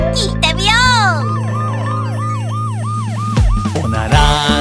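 A police car siren wails up and down in a quick repeating rhythm, loud and close, over a steady musical backing in a Japanese children's song.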